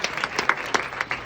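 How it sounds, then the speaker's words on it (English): Audience applause at an author talk, a dense patter of many hands clapping together, lively and fairly close, over a short burst. "A big round of applause, please."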